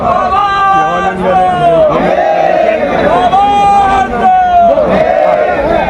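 A large, dense crowd gathers at a railway trade union recognition election for NRMU and AIRF, loud and close, with chanting and shouting voices that rise and fall continuously.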